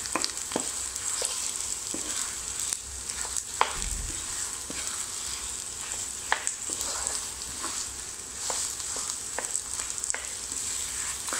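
Potatoes frying in a pan with onions, a continuous close sizzle broken by periodic scraping and knocking as the spatula stirs them, with no talk.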